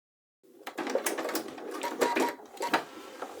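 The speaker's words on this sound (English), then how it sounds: "I'm actually switching to a straight stitch" Sewing machine running a straight stitch around a work-pants waistband, a close, steady mechanical whir with brief pauses and surges, and no voice.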